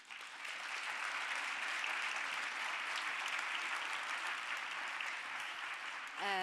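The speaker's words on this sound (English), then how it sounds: "Give a round of applause to them as well." An audience gives steady applause at the launch event of a global gender campaign, a dense even wash of clapping that holds for several seconds before a voice begins at the end.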